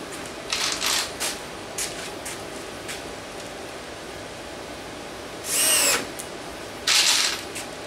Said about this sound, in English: now I'm going to put a couple of screws right through the hole